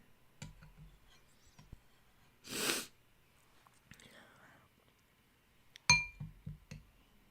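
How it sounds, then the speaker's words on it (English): A single short, breathy sneeze bursts out close by amid quiet room sounds, with faint clicks and small knocks before and after. "I had to sneeze, and I don't think anybody wanted to hear that."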